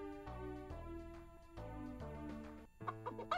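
Music from the V.Smile Cinderella video game, with hens meant to cross a bridge, plays as a bright sequence of synthesized tones in changing notes, with a few livelier clucking-like blips near the end and no speech.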